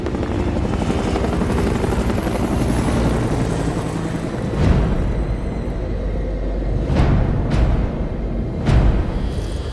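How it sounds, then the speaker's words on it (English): An RAF search and rescue helicopter in a disaster film, its rotor drone loud and steady throughout, with a few brief whooshing bursts near the end and no talk. "RAF search and rescue team has been deployed by helicopter to airlift the royal family to safety."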